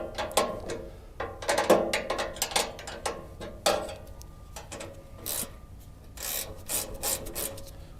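A 13 mm ratchet works a small nut on a Bobcat E42 excavator's side cover, giving bursts of rapid clicking and scraping in irregular runs, fairly close and moderately quiet.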